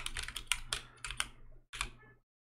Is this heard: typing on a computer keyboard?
yes